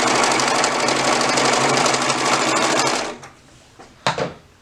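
A sewing machine runs in one fast, steady burst while stitching a pants seam up to the crotch point, then stops abruptly, followed by a couple of soft handling clicks.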